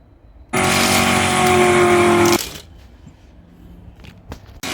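Race cars, a Mustang and Audis, launching off the start at a motorsport nationals meeting: a sudden loud burst of engine roar for about two seconds, then fading to distant rumble with scattered knocks.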